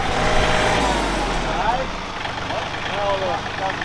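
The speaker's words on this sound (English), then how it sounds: "we're gonna get Landon's truck in here" An old Chevy truck rumbles close by as it is driven into a shop, its engine idling and revving steadily under people talking.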